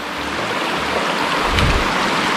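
Clean water in a village canal rushes in a loud, steady wash that swells briefly partway through, with no talking.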